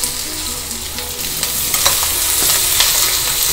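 Onion and green chilli sizzle loudly in hot oil in a pan, a close, continuous crackling hiss with sharp stirring scrapes and clicks from a spoon, and no talking.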